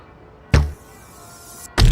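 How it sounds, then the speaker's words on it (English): An arrow strikes the target in the London 2012 Olympic archery video game, heard as two short sharp impacts about a second apart, each with a thump and a brief noisy tail, over a quiet background. "Arrow 3 locked right on the target."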